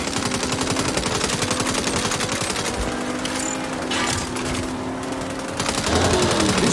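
Rapid gunfire fills a scene in the video game Saints Row, with sustained automatic bursts and a few sharper single shots, loud and continuous with no speech.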